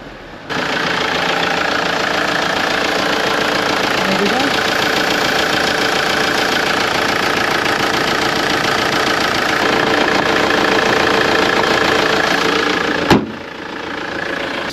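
A Ford Transit van engine idles steadily after starting, a continuous close, loud mechanical hum and rattle that holds for most of the stretch before a brief knock near the end.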